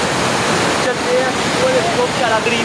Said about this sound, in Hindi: ये देखो ये पानी आ रहा है ये इधर का